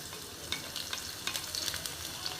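Ginger-garlic paste, pounded in a mortar, roasting in a pan for chicken sukka, a soft steady sizzle close by with a few light scrapes of stirring, fairly quiet and without talking.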